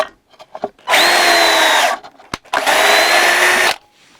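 A cordless drill-driver drives self-tapping screws in two loud, close bursts of whining motor about a second each, with a brief pause and faint handling clicks between them.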